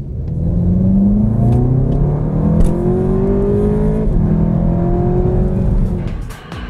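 A Seat Leon SC Cupra compact sports car, up to 280 PS and about 1375 kg, howls loudly on a race track, its engine revving up through gears in rising sweeps that hold at a close, steady roar.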